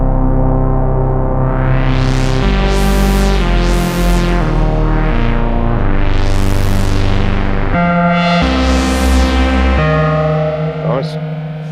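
A 2500 modular synthesizer module plays with two oscillators and delay, loud, fat sustained tones with sweeping, distorted filter swells and echoing repeats that change pitch in steps.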